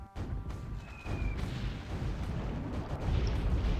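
Artillery bombardment in Supreme Ruler Ultimate rumbles as a steady, low, booming roar that swells slightly over a few seconds, with a brief whistling tone early on.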